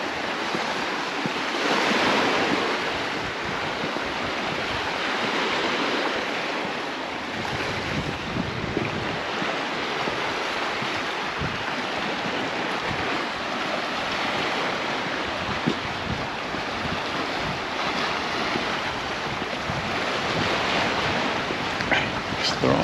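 Sea waves at the shore in Peguera, Mallorca, wash in a constant broad hiss with gentle swells, mixed with strong wind buffeting the microphone over the whole stretch.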